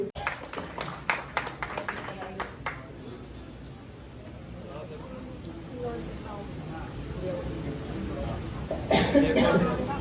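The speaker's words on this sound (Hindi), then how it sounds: "तालियां जरूर बजाते रहे आप इन सभी बच्चों के लिए।" An audience at a cooperative bank's annual general meeting applauds students being honoured, with a burst of scattered clapping at the start, a voice speaking through the middle, and another round of clapping toward the end.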